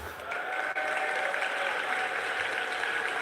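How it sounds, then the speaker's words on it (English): Steady audience applause fills a large hall at the Pokémon World Championships 2024 finals, a dense, continuous wash of clapping from a big crowd that holds evenly throughout. "So give yourselves a round of applause."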